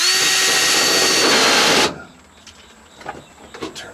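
Power drill run at slow speed while boring seat belt mounting holes in a 1967 Dodge Power Wagon, a loud steady whine for about two seconds that cuts off abruptly, followed by faint clicks and handling noises.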